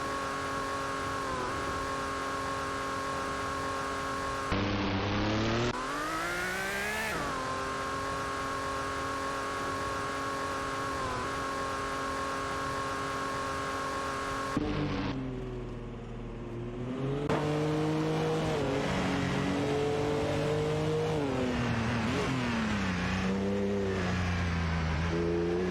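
Race cars in a simulated AI race rev hard and accelerate, engine pitch climbing and falling through gear changes in a continuous, loud, close drone with no voices.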